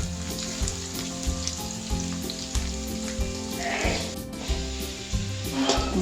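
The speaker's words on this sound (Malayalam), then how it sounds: "എണ്ണ ചൂടായി കഴിയുമ്പോൾ അതിലേക്ക് സവാളയും പച്ചമുളകും ഇട്ട് കൊടുക്കുക." Onions and green chilies sizzle steadily in hot oil for a beef curry, a close, continuous frying hiss with occasional stirring scrapes and no voices.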